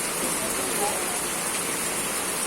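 Heavy rain pours down in a dense, continuous hiss, steady and fairly loud, with a faint murmur of voices beneath it.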